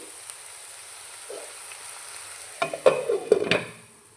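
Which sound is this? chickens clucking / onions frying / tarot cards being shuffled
onions frying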